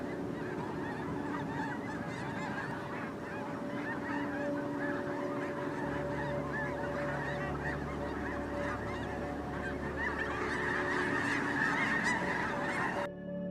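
A flock of wild geese honking continuously on hunting grounds, many overlapping calls near and far, with no voices.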